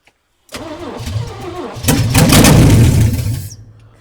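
A 1965 Chevy engine cranks with a rhythmic whirring of the starter, then coughs into a louder, rougher roar for a second or two before fading out; a voice is briefly heard.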